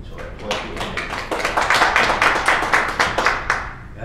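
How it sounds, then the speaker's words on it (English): Audience at a convention seminar claps, starting with scattered hands and swelling into steady, fairly close applause, individual claps distinct throughout. "So I applaud you."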